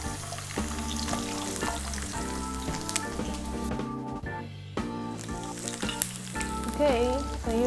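Garlic and ginger slices frying in a pan, a soft sizzle and crackle running under steady background music, with a few stirring scrapes near the end.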